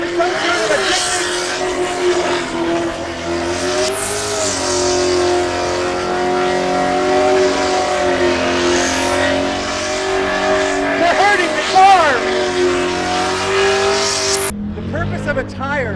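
Cars doing tire-squealing burnouts at the Summernats car festival, a loud continuous roar of revving engines and screeching rubber sustained throughout, with talk audible in the background before a brief drop near the end.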